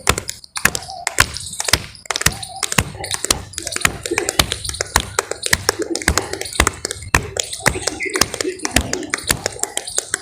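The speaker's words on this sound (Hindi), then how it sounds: "एक मुट्ठी बांधकर और दूसरे हाथ के अंदर ऐसे जोर से। और फिर दूसरे हाथ की मुट्ठी पहले हाथ में।" A fist is struck hard into the opposite palm over and over as a clapping health exercise, sharp close thuds in a quick irregular rhythm, with a voice talking in between.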